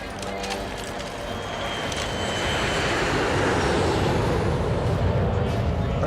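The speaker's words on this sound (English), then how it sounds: "Plane is touching down, sir." A passenger plane touching down on landing, a broad roaring rumble that swells and holds loud and steady throughout.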